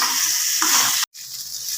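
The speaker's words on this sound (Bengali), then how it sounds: "এটাকে এবার মাঝারি আঁচে ভালো করে ভেজে নিতে হবে" Ginger paste fries in oil over medium heat with a bright, continuous sizzle, broken by a brief moment of near silence before the hiss resumes.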